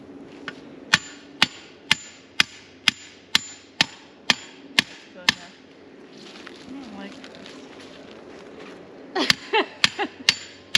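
A hammer strikes a nail in a steady series of about ten sharp, close blows at an even pace, then pauses before a quicker burst of hits, with people talking faintly between strikes on an Alaskan homestead.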